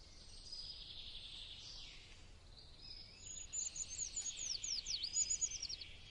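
Ural owl chicks give thin, high-pitched calls, a steady wheezy note at first and then a burst of rapid, rising chirps, faint against a quiet woodland background.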